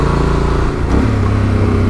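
Yamaha Ténéré 700 motorcycle engine pulling steadily in second gear on a twisty mountain road, a loud close drone with a brief dip and lift in pitch as the throttle shifts.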